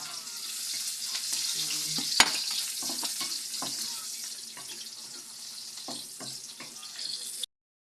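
Onion, garlic and ginger sauté in hot oil with a steady sizzle, broken by scraping stir strokes and one sharp knock, and a faint watery running sound behind.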